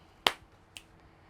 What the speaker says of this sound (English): clap sync for audio